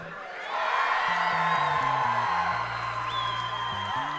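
Crowd cheering and whooping for Maple Mountain at a Ken Garff esports spring grand finals, a sustained loud roar of many voices with a deep stepped musical tone running underneath.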